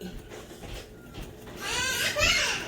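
Children's voices, shrill and somewhat distant, rise in the background amid faint room noise, growing louder toward the end.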